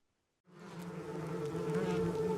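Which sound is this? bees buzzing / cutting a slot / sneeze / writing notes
bees buzzing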